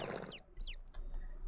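A chicken in Medieval Dynasty gives a few quick, close clucks and squawks in short bursts over a low ambient background.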